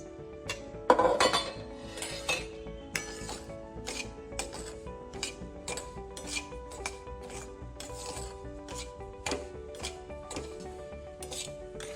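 Semolina roasting in ghee in a pan for grape halwa, a spoon scraping and clinking against the metal in steady repeated strokes, close and fairly quiet with no voices.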